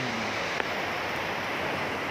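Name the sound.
rain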